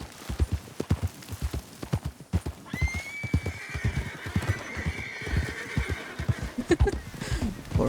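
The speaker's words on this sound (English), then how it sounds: "Poor horse just laid down and now it's running again." A horse in the video game Red Dead Redemption 2 gives a long whinny midway while hooves clip-clop in a steady running rhythm throughout, close and clear.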